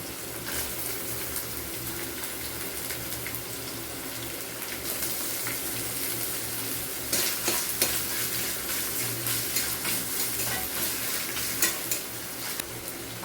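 Vegetarian ghugni ingredients frying together in a pan, with a steady loud sizzle and repeated stirring and scraping that grows busier in the second half, no voices.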